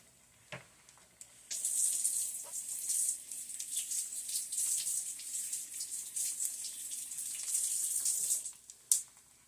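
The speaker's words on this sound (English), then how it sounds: "And go rinse everything off." Tap water runs in a steady hiss while a spoon is rinsed underneath, with a couple of sharp clinks at the start and end.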